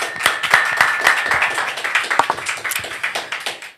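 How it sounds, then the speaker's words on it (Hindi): An audience applauds, a quick patter of hand claps carrying on for a few seconds at close range with no talk over it. "एक अच्छी ताली के साथ"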